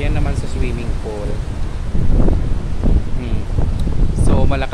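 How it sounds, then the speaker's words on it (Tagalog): Strong wind gusts buffet the microphone outdoors at a seaside wedding venue near a swimming pool, a constant rushing roar beneath someone talking throughout. "So malakas ang hangin, grabe ang weather ngayon."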